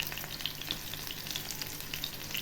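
Pomfret coated with masala and rice flour frying on a low flame, giving a steady, soft crackling sizzle with scattered small pops throughout, close and even, with no talking.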